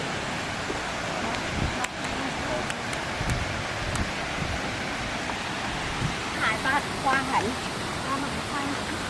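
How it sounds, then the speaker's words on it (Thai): Steady, loud roar of a waterfall on a trip in Saraburi, Thailand, a continuous rushing wash of water with no voices. "อืมน้ำตก"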